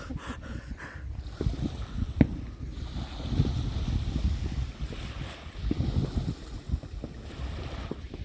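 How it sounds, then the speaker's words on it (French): Gusty wind buffets the microphone in uneven surges, with rumbling low noise and the wash of water in the background. "Il y a du vent alors ça"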